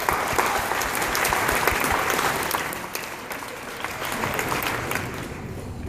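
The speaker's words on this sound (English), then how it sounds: "So go ahead and give yourselves a round of applause." A graduating audience at a recognition ceremony in Albany breaks into dense, sustained applause, loud and continuous, with many hands clapping together and no talk over it.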